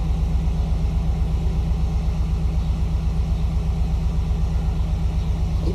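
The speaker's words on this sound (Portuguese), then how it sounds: "o que esse caminhão está fazendo aqui?" A parked truck idles outside with a steady, pulsing low-pitched diesel rumble that stays even and unbroken throughout.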